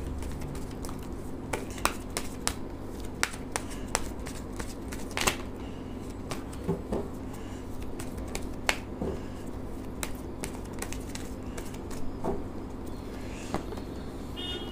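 Oracle and tarot cards are shuffled up close, with scattered crisp flicks and snaps against a steady low hum, quiet and continuous.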